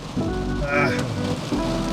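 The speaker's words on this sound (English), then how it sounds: "this rain is a little too heavy" Heavy rain pours steadily in Barcelona, a dense close hiss of drops on surfaces, with a faint voice briefly under it.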